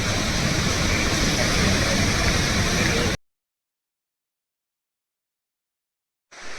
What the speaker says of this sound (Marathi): दुसरा धबधबा